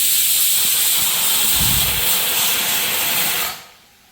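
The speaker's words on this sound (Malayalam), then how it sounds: "കുക്കർ നല്ലോണം വിസിലടിക്കുന്നു കേട്ടോ" A loud, sustained steam hiss from a pressure cooker whistle, steady for several seconds before cutting off abruptly near the end.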